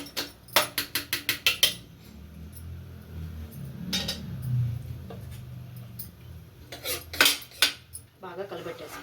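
A metal spoon stirs tomato rice in a pot, scraping and knocking on the rim in quick bursts of clinks, with a soft bubbling rumble between the strokes.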